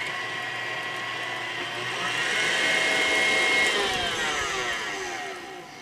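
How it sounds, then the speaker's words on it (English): An electric mixer whips heavy cream on its way to becoming homemade butter, a loud continuous whirring drone that swells in pitch and intensity midway, then eases slightly, with no talking. "So we're just going to keep whipping, and we're getting there."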